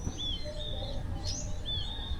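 Crows in trees by a cemetery in Oslob, Cebu, calling repeatedly in drawn-out, rasping cries, several spaced across the stretch, fairly distant against a low outdoor background.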